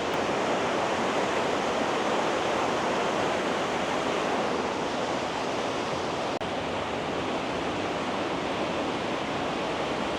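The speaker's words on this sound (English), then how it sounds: "Can you hear the water?" Johnston Canyon waterfall in Banff National Park, a constant broadband roar of rushing water, loud and steady for the whole stretch, with no voices.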